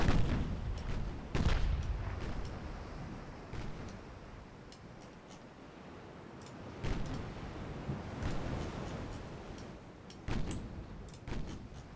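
Warship guns fire in a naval battle in Ultimate Admiral Dreadnoughts, a series of heavy booms spaced a second or more apart over a steady rumbling sea ambience, moderately loud and distant.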